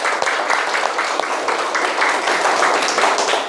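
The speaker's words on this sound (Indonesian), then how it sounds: "beri tepuk tangan untuk kita semua" Classroom applause, a continuous burst of many hands clapping together for several seconds, loud and close.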